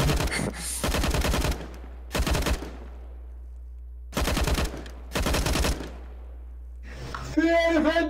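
Bursts of rapid gunfire from a Counter-Strike match, loud clustered volleys separated by pauses, with a brief electronic game sound near the end.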